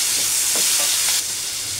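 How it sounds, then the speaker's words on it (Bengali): Onions and tomato fry in a pan with a steady close-up sizzle, and soft stirring scrapes come through now and then for under two seconds. "পেঁয়াজগুলো লাল করে ভাজা হবে, তার সাথে এই টমেটোটাও ভাজা হবে।"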